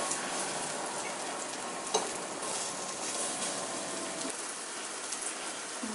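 Sliced plantains fry in butter in a pan after flipping, giving a dense, even sizzle and crackle that fills the moment close up, with a faint clink of a utensil partway through.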